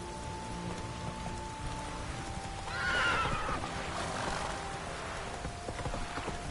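A horse whinnies in The Witcher video game, a loud neigh rising around the middle over steady rain and soft clip-clop hoofbeats.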